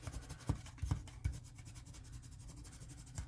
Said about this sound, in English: I'm going to take the bone folder and give that a crease.